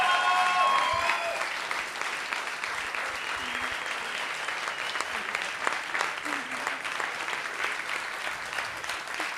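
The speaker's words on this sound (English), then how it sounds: "let's give a huge round of applause to Shannon" Audience at a Le Wagon Lisbon coding bootcamp demo day gives a steady round of applause, dense clapping with scattered cheers and voices throughout.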